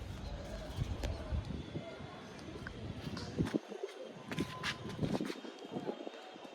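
A female red-tailed pigeon coos in a loft among other pigeons, low soft calls mixed with fluttering and shuffling, close by under someone talking.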